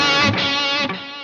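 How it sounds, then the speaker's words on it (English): A bright, heavily processed instrument tone through a BOSS Space Echo tape delay rings out, dense and loud, then thins and fades slightly toward the end. "So this controls the character of the delay."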